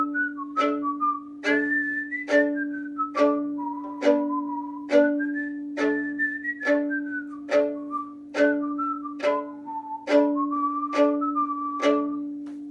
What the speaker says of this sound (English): I'm going to whistle as a lead player